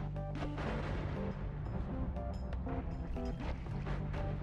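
Homemade nuke blast in the video game Noita, a dense, loud sustained rumbling explosion with crashing bursts and layered game effects filling the whole stretch, ending in a sharp spike.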